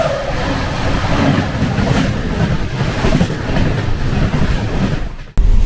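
The Ahmedabad Danapur special train passing close by, a loud continuous rumble of wheels and carriages rolling on the rails, with a sharp cut near the end.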